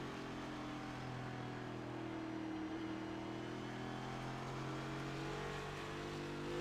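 Cup Series race cars circling Gateway give a continuous engine drone with steady harmonic tones and slight pitch shifts, a fairly loud, uniform field of motor noise without talk.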